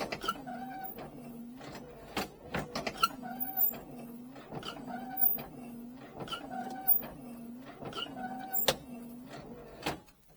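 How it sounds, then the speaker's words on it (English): Windshield wipers running on a 1969 Chevelle SS 396, a quiet repeating motor whir and sweep roughly every second, with faint clicks and knocks scattered between the strokes. "So we'll start with the windshield wipers."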